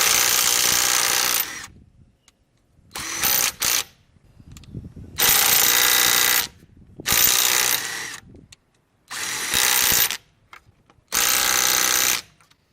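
A Bauer 20-volt cordless impact driver from Harbor Freight hammers against a Ford Edge lug nut in four or five loud, rattling bursts separated by short pauses, close up and without talk.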